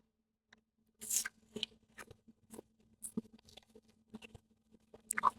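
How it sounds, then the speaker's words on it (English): A crunchy protein snack being eaten up close: bursts of crisp bites and crackling chews, irregular and fairly quiet, with short pauses between mouthfuls. "I'm going to go ahead and enjoy this snack"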